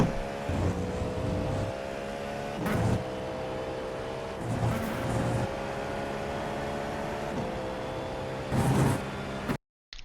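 A GTP prototype race car in the iRacing sim at full speed through the final corner of the Algarve Grand Prix circuit, a loud steady engine drone broken by several sharp gear-shift bursts, with no talking.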